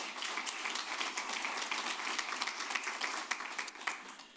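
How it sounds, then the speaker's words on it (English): A room at a board of education meeting breaks into a round of applause for a retiring staff member, with scattered hand claps that grow slightly more uneven toward the end. "let's give her a round of applause as well."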